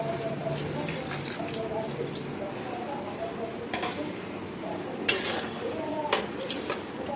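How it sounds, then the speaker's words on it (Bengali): Water is poured lightly into an egg tadka cooking in a pan, a soft wash of liquid with occasional clinks of utensils, faint beneath a person talking. "এবারে এটার ওপর থেকে আমি একটু জল দিয়ে দিচ্ছি, হালকা করে অল্প করে জল দিচ্ছি"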